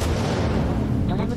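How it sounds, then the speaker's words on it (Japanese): A thrown explosive in the video game Retail Royale goes off as a loud, rumbling boom that fills the short clip, with a voice talking over it. "なんか爆発物投げてきたんだけど、あいつ"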